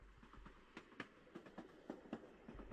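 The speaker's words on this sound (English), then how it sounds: "My old nemesis, the train." A train rolls past in the VRChat shooter world Steel n Gold, its wheels clicking and clacking in an uneven run of thumps over a low rumble, moderately close and with no voices.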